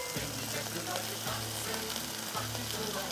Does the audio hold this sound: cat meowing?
no